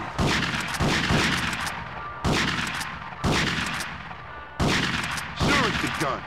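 Gunshots from a gun in the video game GTA Vice City Stories, five loud, sharp blasts with a short ringing decay after each, spaced about a second apart.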